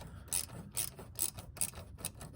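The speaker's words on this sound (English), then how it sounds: "So let me get this clamp tightened up." Ratcheting clicks from tightening a coolant hose clamp on the lower intake manifold of a 1995 Mustang, quick irregular bursts of pawl clicks up close, fairly quiet with no talking.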